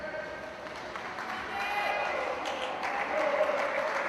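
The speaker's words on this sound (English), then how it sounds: "As Derek Chang comes into a round of applause on his last length here in the 500" Applause from a crowd at a boys' high school swim meet, steady clapping that swells louder as a swimmer finishes the last length of a 500 race, with an announcer talking over it.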